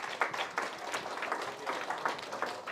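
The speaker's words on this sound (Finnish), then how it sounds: "Antakaa vielä kaikki itsellenne suuret aplodit," A school event audience claps in a loose, uneven patter of scattered hands, fairly faint and distant, sustained for a few seconds with no speech over it.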